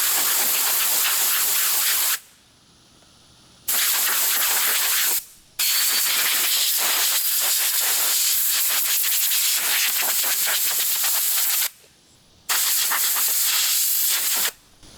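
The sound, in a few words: blowing out an excavator air filter with compressed air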